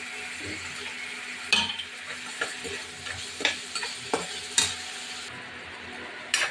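Tengra fish going into a hot pan with spices, sizzling steadily while a utensil stirs and scrapes with occasional clinks, close and moderately loud, no talking.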